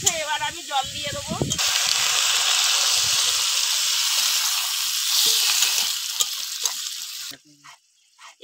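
Water poured into a pan of sautéed vegetables for lau shak chorchori sets off a loud, sustained hissing sizzle up close that fades near the end, following a brief stretch of talk.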